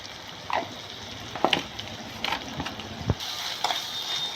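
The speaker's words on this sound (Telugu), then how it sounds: "అల్లం వెల్లుల్లి వేసుకున్నాక అవి మంచి కలిసి వేగుతుంటే" Ginger and garlic frying in a pan for a drumstick and tomato curry, a soft steady sizzle with a few sharp clinks and scrapes of stirring, close and fairly quiet.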